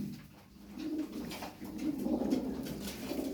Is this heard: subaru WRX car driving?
no